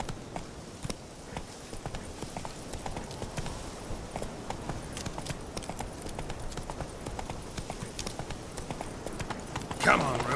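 Roach, the horse in The Witcher 3, gallops along with steady, rapid hoofbeats that run through the whole stretch under game music and ambience, while a voice speaks briefly.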